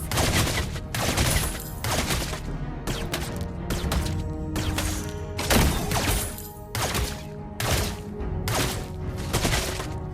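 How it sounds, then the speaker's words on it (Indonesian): Rapid bursts of golden bullet gunfire in Mobile Legends as the hero Layla crack out again and again in a dense, loud volley over a steady musical backing. "Tembakan peluru emas."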